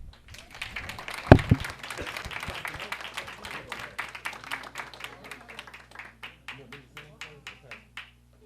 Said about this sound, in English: Y'all clap them up.